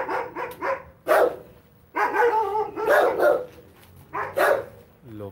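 Several dogs bark near a supposedly haunted, abandoned fairground in repeated bursts of loud, close barking with some yips, while people talk in Spanish between and under the barks.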